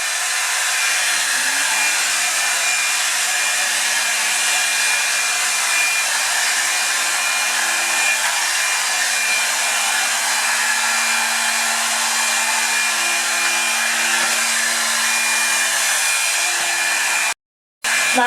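A Revlon Salon One Step hair dryer and volumizer runs continuously with a loud, steady airy roar and a faint motor whine, shifting pitch slightly early on, then stops briefly just before the end.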